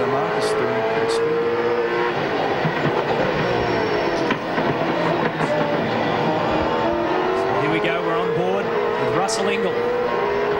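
At the 2001 V8 Supercars Championship round at Winton, Race 1, race cars including Commodores roar steadily and loudly past, engines rising and falling, while a commentator talks over the noise.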